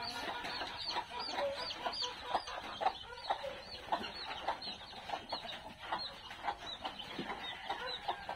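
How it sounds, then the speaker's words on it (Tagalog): Hens and chicks cluck steadily outdoors on a backyard poultry setup, a dense chorus of soft overlapping clucks and peeps at moderate distance with no talking. "yung inahin nandiyan na sa labas at saka yung sisyo lang ang pumapasok"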